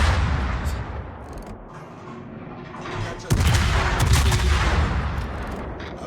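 Heavy naval gunfire booms from a warship battle in World of Warships, low rumbling salvos with a sharp loud blast partway through followed by a sustained roar, a player's voice faintly over it.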